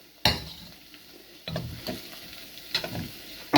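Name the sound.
stirring cheese and egg noodles in a pan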